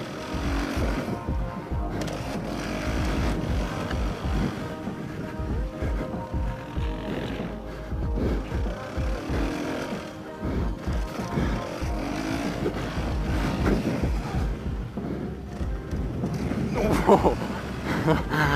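A Suzuki RM-Z 450 motocross bike from 2018 roars steadily over a jump on a dirt track, its engine note rising and falling close by with a brief louder surge near the end, continuous throughout.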